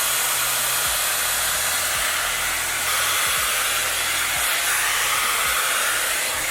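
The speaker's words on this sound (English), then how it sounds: "I'm going to put in this brush attachment on medium speed, medium heat, just to smooth out my hair and dry it a bit." Dyson Airwrap with brush attachment drying hair at medium speed and medium heat, a constant close airy whoosh with steady motor hum and occasional low bumps from handling throughout.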